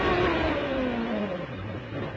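A CART race car's engine at the Montreal circuit sweeps down in pitch from a loud high rev to a lower drone as it eases off, with no talk.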